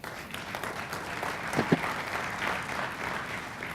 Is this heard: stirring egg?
no